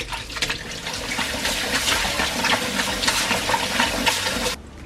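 Running water pours steadily while dried radish is rinsed and rubbed by hand for dongchimi (Korean winter radish water kimchi), a close, continuous splashing gush that stops abruptly near the end.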